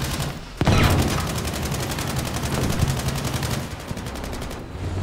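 Rapid automatic gunfire in the video game Battlefield V, a sharp opening shot followed by a dense, steady stream of rounds lasting several seconds, loud and close.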